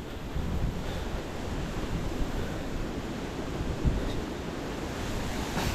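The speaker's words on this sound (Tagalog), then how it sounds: "Oh, lakas ng hangin, parang babagyo ngayon." A strong gale, as if a typhoon were coming, sweeps over an outdoor hiking path, making a constant broadband rush with low buffeting rumble throughout and no one speaking.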